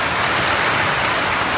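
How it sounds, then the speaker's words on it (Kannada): Steady rain falls without a break, a dense even patter filling the whole stretch with no voices. "ಊಟ ಮಾಡಿ ಹೋಗೋಣ ಅಂದರೆ ಮಳೆ ಬರ್ತಾ ಇದೆ"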